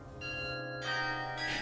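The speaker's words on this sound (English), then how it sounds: "Thanks to the dozens of bells cast in the English town of Loughborough and installed in the tower as a carillon" Carillon of dozens of bells cast in Loughborough, ringing from Bok Tower in a garden setting: sustained, resonant bell tones overlapping and ringing on, with a fresh strike adding brightness near the end.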